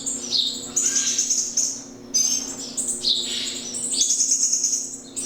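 Baby birds in a wildlife rescue nursery, a young titmouse, a sparrow and two blue jays, chirp and beg loudly at close range in repeated high bursts, with brief pauses between calls.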